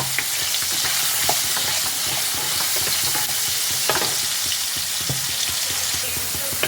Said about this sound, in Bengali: আর দিচ্ছি সামান্য একটু হলুদ গুঁড়ো এই সব কিছু দিয়ে আলুটাকে ভালোভাবে ফ্রাই করে নিতে হবে